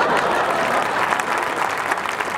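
Audience applause at a Hindi hasya kavi sammelan, a comic poetry gathering, with dense steady clapping from a large crowd filling the hall for a couple of seconds and no voices over it.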